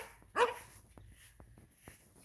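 One short, sharp bark from a dog in a garden, fairly close, followed by faint soft thuds and quiet outdoor background.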